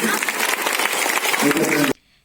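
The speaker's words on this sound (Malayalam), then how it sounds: "അതുപോലെ നല്ല കയ്യടി കൊടുക്കണം." A crowd claps steadily and densely for about two seconds, a broad continuous wash of hand claps that then cuts off abruptly into near silence.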